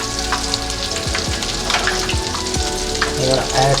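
Tempura-battered shrimp fry in hot oil with a busy, crackling sizzle, close and continuous, punctuated by a few soft clicks and bubbling bursts.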